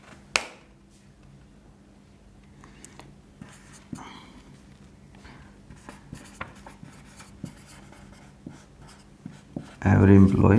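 Marker or chalk writing on a classroom board during an English grammar lesson, heard as soft intermittent scratchy strokes and taps over low room noise, with a louder burst of handling near the end.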